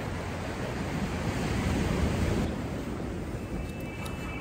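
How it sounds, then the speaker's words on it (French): Ocean waves wash onto a beach with nearby construction work, a steady broad rushing hiss that swells slightly midway, with some wind buffeting and no talk. "On a quand même le bruit des vagues."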